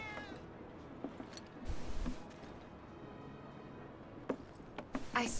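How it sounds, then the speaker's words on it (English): A cat meows faintly in the game Final Fantasy VII Remake, brief soft calls over low ambient game sound, with a couple of sharp clicks near the end. "I swear I just heard a cat."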